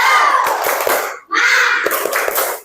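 A classroom group claps together in a quick rhythmic spirit clap, two loud bursts of sharp hand claps mixed with shouting voices, briefly broken by a short pause.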